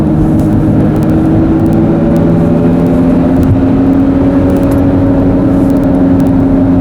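A Suzuki Verona with a four-speed automatic is floored at full throttle, giving a loud, steady engine drone with a whirring undertone that holds for the whole stretch, heard close from inside and with no voices.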